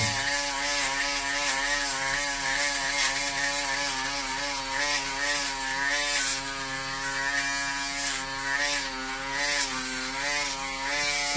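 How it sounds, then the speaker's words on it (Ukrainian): An electric shaver buzzes continuously as it is drawn over skin, a close, steady raspy drone that wavers slightly in pitch as pressure and angle change. "давайте от зараз ми візьмемо шейвер і. Пробуємо."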